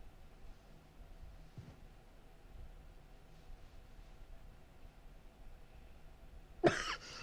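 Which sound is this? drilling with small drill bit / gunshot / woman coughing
woman coughing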